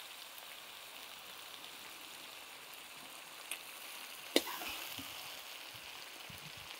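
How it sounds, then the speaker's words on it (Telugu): Raw prawns frying in oil, a faint, even crackle with an occasional sharp tap of a spatula during stirring, no voices present. "ఇలా మొత్తం నూనె వదిలేంత వరకు చక్కగా వేయించుకోవాలండి, మధ్య మధ্యలో కదుపుతూ."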